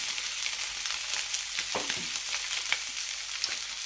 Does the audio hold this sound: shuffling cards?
no